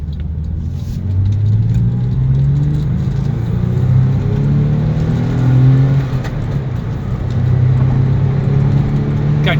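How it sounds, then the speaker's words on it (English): A car driving and accelerating through the gears, its engine a steady close rumble that rises in pitch several times as it shifts, heard from inside the cabin. "Anyway, the car drives great through all the gears."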